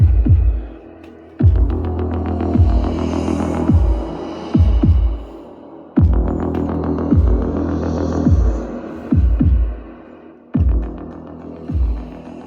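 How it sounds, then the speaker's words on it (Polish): Heavy, booming bass thumps repeat in a steady pulsing rhythm, loud and rumbling with deep low-end throbs, music played through an Urbanears Ralis portable speaker with no talking. "Jeszcze nie słyszałem głośnika z tak wielkim basem."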